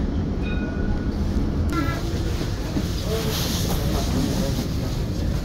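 Line 1 tram of the Nantes tramway running, a loud steady rumble and rolling wheel noise from inside the car throughout, with brief high tonal squeals and faint chimes riding over the constant drone.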